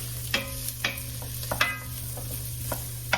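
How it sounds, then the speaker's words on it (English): Ham browning with vegetables in a pan, a close sizzle under repeated scraping stirs from a utensil, several sharp strokes spaced across a few seconds over a steady low hum. "I'm just going to brown up this ham now in the vegetables"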